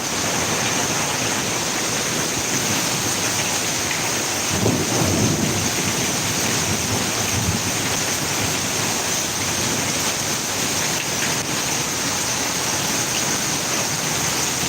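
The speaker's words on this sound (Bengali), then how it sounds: "প্রচুর বৃষ্টি হচ্ছে" Heavy rain pours down on a city street in the capital, making a dense, steady roar with a brief low rumble of thunder about midway through, and no voices.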